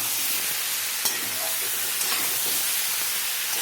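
Bengali fish curry with bottle gourd being stirred in a hot pan, a steady close sizzle and hiss with a few light scrapes of the spoon, no voices.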